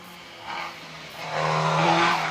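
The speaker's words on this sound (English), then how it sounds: "Sounds like a bike engine." A Caterham race car with a 1600cc motorcycle engine climbs at the Shelsley Walsh hill climb, its engine note swelling in two surges and building toward the end, heard from a moderate distance.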